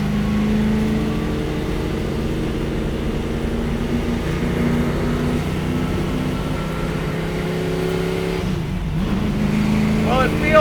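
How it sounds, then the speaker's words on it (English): A vintage Ford Mustang race car's engine drones steadily through side exhaust pipes exiting just below the doors, heard from inside the cabin as a continuous low, throaty hum with a brief dip near the end. "it sounds incredible, huh? The side pipes coming out right underneath the side doors here."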